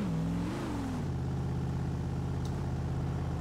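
A 1970 Chevy Chevelle V8 in Forza Horizon 3 launches in first gear, its engine note rising briefly and then settling into a loud, steady, throbbing drone with no talk over it.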